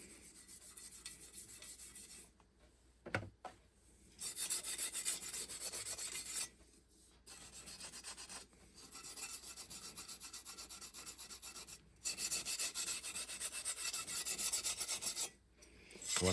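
Brass brush scrubbing the metal of a 1968 Camaro gauge cluster, a steady close rasping in repeated strokes of a couple of seconds each, separated by brief pauses, with no talk.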